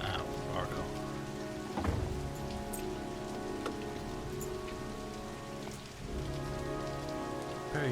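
Steady rain in the video game Heavy Rain pattering on a surface with occasional heavier drops and a low rumble, continuous throughout.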